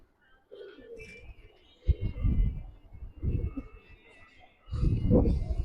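A hurricane-coloured cock pigeon on a rooftop loft gives a few low, throaty coos in separate bursts, close by, over soft background noise.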